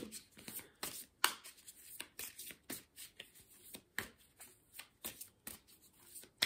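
Oracle cards being shuffled by hand, a quick run of crisp riffling and flicking bursts that come in uneven clusters, close and fairly quiet with no talking.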